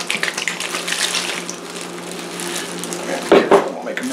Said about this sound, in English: This is just pure salt water I'm adding now.